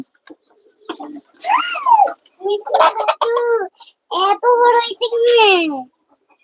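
Pigeons coo nearby in short rolling bursts with pauses between, close and fairly loud, with a voice heard at moments.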